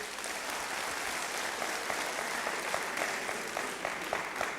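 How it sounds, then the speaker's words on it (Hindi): An audience at a safety session in a hall claps steadily, a dense, even wash of applause that holds from start to finish without voices rising above it. "थोड़ी बहुत जोर से तालियां बजाइए इनके लिए।"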